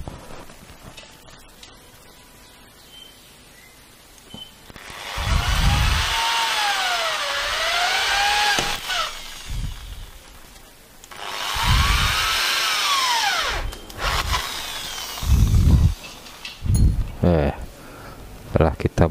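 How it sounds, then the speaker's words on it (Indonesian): A power drill bores through a metal clamp on a gamma match dipole antenna in two long whining bursts, the pitch sagging and rising under load, close and loud, with knocks and handling noise between. "Kita bor dulu."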